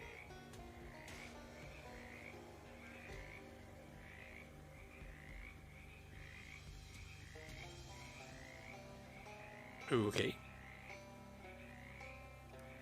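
Frogs croak in steady repeated bursts across a Shadows Over Loathing game scene, a rhythmic chorus over soft background music, with a brief louder thump near the end and one short spoken word.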